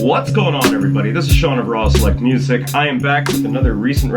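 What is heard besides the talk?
No distinct noise like a dog, phone or traffic.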